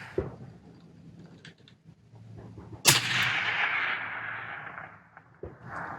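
A single long-range rifle shot fired in open desert: a sharp loud crack with a long rolling echo that fades over a few seconds, set against quiet wind and outdoor ambience.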